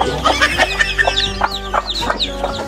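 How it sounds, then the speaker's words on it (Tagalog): Hens and small chicks close by make rapid overlapping clucks and high chirps in a busy, continuous chatter. "hindi pa marunong maglakad yung maliliit na sisiw."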